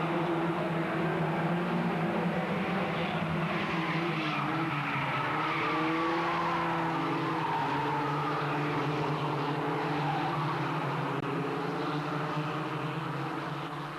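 A racing car running in a race, its engine a loud steady drone with shifting pitch as it works through the bends, close and continuous for the whole stretch.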